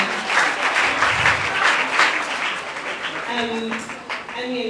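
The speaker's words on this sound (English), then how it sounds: "give a round of applause to all our special guests today" Audience applause for special guests at a charity foundation event, a burst of crowd clapping that fades toward the end as a voice begins speaking over the tail.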